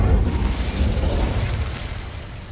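Incendio fire spell cast in Hogwarts Legacy, heard as a loud, close burst with a deep booming whoosh that slowly fades over a couple of seconds.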